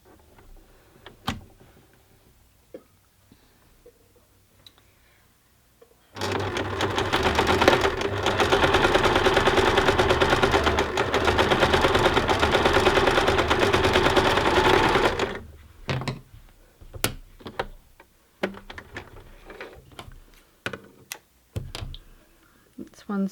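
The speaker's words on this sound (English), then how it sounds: "on your sewing machine down either side of the cutting line" A sewing machine runs a continuous zigzag stitch along hand-woven cloth beside a cutting line, a steady close whirring burst lasting about nine seconds, with quiet handling clicks before and after.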